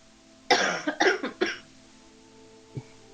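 Someone nearby clears their throat in a harsh burst of several rough rasps, followed by a faint short grunt, during a quiet tabletop role-playing session.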